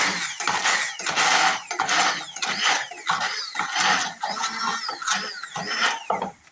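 A blender purees chickpeas and peas in uneven bursts of whirring and rattling, with the pitch and loudness rising and dipping as the mixture catches. It runs close and fairly loud, with no speech.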